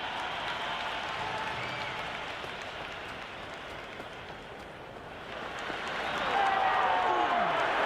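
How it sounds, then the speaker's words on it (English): A packed cricket stadium crowd at a Pakistan vs Sri Lanka T20 match in Dambulla roars and applauds after a six, a dense, continuous wash of cheering that swells louder toward the end, with a commentator's voice faintly underneath. "The crowd is electric right now."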